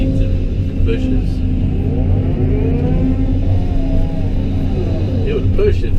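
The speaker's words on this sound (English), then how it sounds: "the dozer didn't like pushing this big old wet muddy piles of weeds and bushes" A bulldozer pushes big, wet, muddy piles of weeds and bushes with a continuous, heavy engine drone and low rumble, loud and close throughout.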